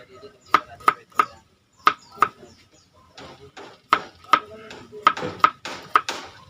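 A knife chops garlic and other ingredients on a board in sharp, close, irregular strokes. Some come in quick bursts of three and some are spaced out, each with a ringing tap.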